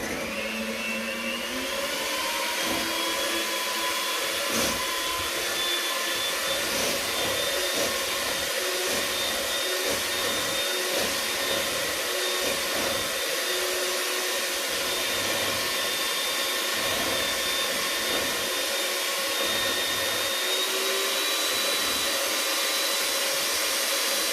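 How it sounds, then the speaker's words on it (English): Electric hand mixer whips cream in a bowl in a home kitchen, a steady high whir running continuously at moderate volume with faint pitch shifts and light scraping, no voices. "So we're going to start mixing our cream."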